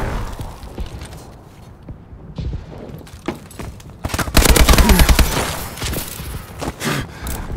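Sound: gunfire in a video game

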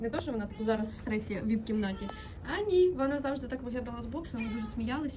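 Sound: kittens meowing at a cat shelter

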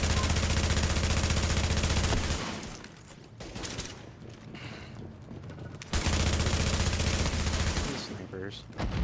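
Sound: gunfire in the video game The Division

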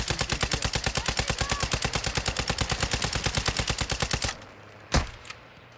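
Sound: gunfire in the video game Call of Duty Warzone DMZ

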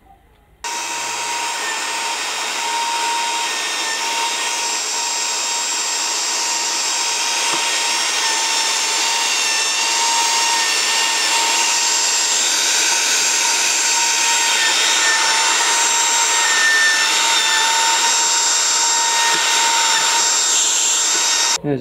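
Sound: Makita plunge router running with vacuum dust extraction

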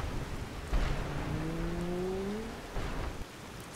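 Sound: thunderstorm with rain in Skyrim (video game)

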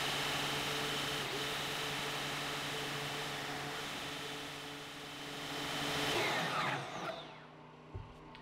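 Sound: DeWalt portable bandsaw cutting thick steel

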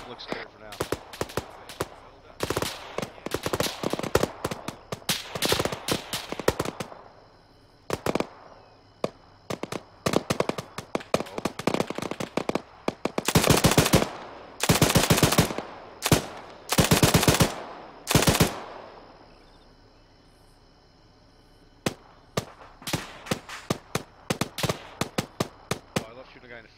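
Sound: machine gun suppressing fire in video game Arma 3

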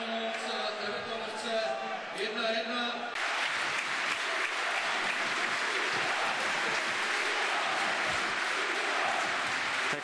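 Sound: football stadium crowd standing ovation

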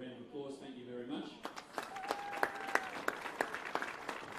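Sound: applause

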